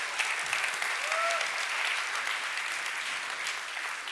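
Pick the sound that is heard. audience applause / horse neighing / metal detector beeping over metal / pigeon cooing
audience applause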